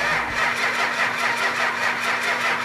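A 400 Magnum V8 in a 1972 Dodge Charger cranks and fires, then runs with a rough, steady, close-up roar for a couple of seconds, with no talking over it.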